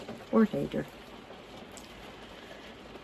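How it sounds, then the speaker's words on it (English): Heavy rain pours down outside a bus that is being renovated, making a steady, dense hiss. A brief spoken phrase is heard at the start, and then the downpour continues alone. "I'm sorry about the rain noise. It is bucketing down here today."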